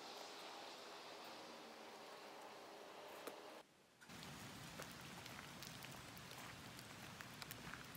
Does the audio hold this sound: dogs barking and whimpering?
no